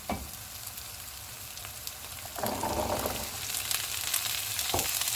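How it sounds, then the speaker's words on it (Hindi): Whole spices sizzle and fry in a hot pan for chole, a steady crackling hiss that swells louder midway with brief bursts of stirring. "इनको हम 3 से 4 मिनट तक भूनेंगे।"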